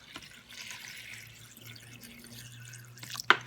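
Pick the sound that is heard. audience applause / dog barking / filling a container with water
filling a container with water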